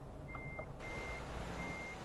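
A truck in a video game gives steady reversing beeps, three evenly spaced tones, faint against a constant engine rumble and background hiss.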